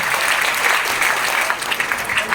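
Sustained applause from an audience at a business plan presentation on stage, dense and steady clapping filling the room, fairly loud and continuous throughout.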